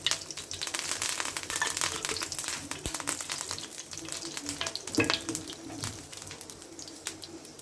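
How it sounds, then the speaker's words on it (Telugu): Sambar powder ingredients frying in oil in a home kitchen, a dense, crackling sizzle that runs throughout with scattered pops and a couple of louder clatters, close up and without talk. "ఇప్పుడు ఇవన్నీ ఫ్రై చేసుకుందాం."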